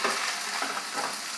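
Okra sautéed in a pan for a traditional Kerala sadya sambar gives a steady, even sizzle and crackle throughout, fairly quiet and with no voices.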